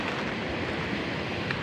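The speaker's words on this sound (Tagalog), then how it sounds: "Ang laki kasi ng alon." Big sea waves surge and wash as a continuous broadband roar, with wind buffeting the microphone throughout this short stretch.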